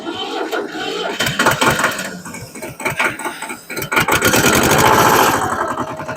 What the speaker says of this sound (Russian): Двигатель запустился без проблем, буквально со второго оборота